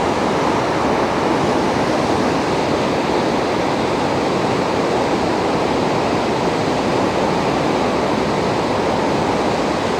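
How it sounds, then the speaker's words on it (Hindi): Heavy, relentless rain pours down on a village in Kullu, a dense, even roar of falling water that holds steady from start to finish with no voices. "ये बारिश रुकने का बिल्कुल नाम नहीं ले रही है"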